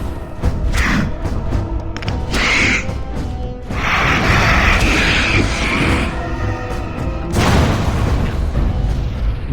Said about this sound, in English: There's explosions going off as per usual